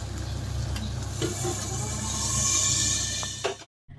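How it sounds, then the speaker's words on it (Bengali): Slices of eggplant fry in a pan, giving a continuous, fairly loud sizzle with a few faint clicks, then it cuts off abruptly near the end. "আর এখানে হলো বেগুন ভাজা বসিয়েছি।"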